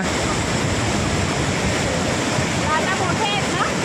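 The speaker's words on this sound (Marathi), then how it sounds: "हा लाटा मोठे आहेत" Ocean waves at Bhate beach roar as a continuous loud wash of surf, with wind buffeting the microphone and a faint voice near the end.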